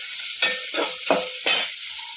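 Vegetables being sautéed in a pan for sambar, with a steady sizzle and four soft stirring scrapes spaced about a third of a second apart, close by with no talk.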